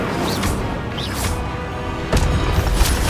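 A fire spell bursts in a Hogwarts Legacy battle: a loud whooshing blast, then a sharper boom near the end, over dense, continuous game noise.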